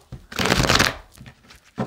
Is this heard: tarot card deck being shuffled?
yes